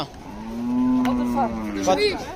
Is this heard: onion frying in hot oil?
no